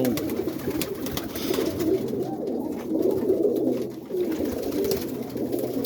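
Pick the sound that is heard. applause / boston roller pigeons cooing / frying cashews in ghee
boston roller pigeons cooing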